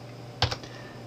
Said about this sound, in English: Hold this key down and then tap the E key on the keyboard.